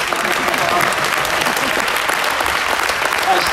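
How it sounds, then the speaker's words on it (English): Audience at an aviation-themed gubernatorial candidates' town hall applauds steadily, a dense, even wash of clapping lasting the whole stretch at fairly loud level. "Now we can applause. Yes, we can applause."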